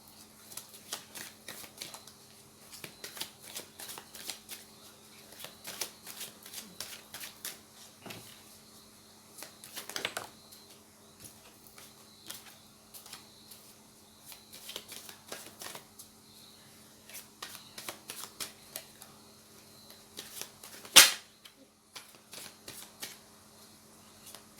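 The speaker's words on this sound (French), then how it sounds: "fais le tirage avec les cartes de l'oracle G." Oracle cards being shuffled for a reading, heard as soft, rapid riffling and flicking in close, repeated bursts, with a sharper slap of the deck near the end and no talking.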